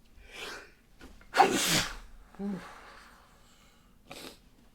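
A loud, close sneeze erupts after a short inhaling build-up, followed by breathy murmurs and a faint sniff afterward.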